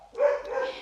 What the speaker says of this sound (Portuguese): agora os cachorros resolveram latir